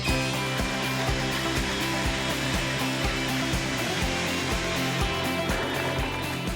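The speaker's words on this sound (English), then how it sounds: "And let's blend this until it's nice and smooth." A blender purees a yellow capsicum cream sauce with a loud, continuous motor whine, its pitch wavering slightly as the contents churn, with no talking.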